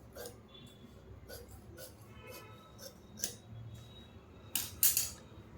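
Scissors cutting cloth for a long gown in tailoring, a handful of crisp snips spaced through the clip, the last two sharper and louder, with faint background murmur.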